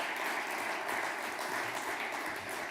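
Audience applause at an urban-planning forum in Ljubljana, a steady, even wash of clapping held at a moderate, somewhat distant level throughout, with no voices over it.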